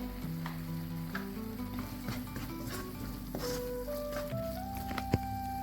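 Chilli and coriander powder sauté in a pan for tomato rice, giving a steady close sizzle with repeated clinks and scrapes of a spoon stirring, plus a sharp knock near the end; no one speaks.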